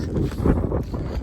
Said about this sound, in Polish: hałasy, bo wiatr wieje straszny.